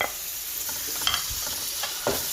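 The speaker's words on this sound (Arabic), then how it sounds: "في نفس الوقت بخلط عشان تتجانس معايا العناصر" Onions, tomato and peppers fry in a pan while being stirred, a close, steady sizzle broken by scraping and clinking strokes of a utensil against the pan.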